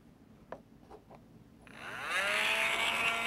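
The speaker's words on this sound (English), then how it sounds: "let's see if we can cut this sucker. Got my Dremel tool." Dremel rotary tool plunging into material to cut it, a few light taps first, then a high whine that ramps up and holds loud and close.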